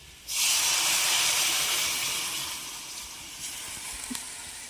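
Fresh cow's milk pours into a pan of sautéed young jackfruit and hisses loudly at once, a steady close sizzle that slowly softens over several seconds, with no voices.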